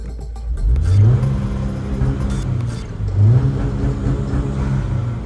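2018 Subaru WRX with an aftermarket intake and tuned map, engine revving on launch control, rising twice to a held high-rpm buzz, loud and close.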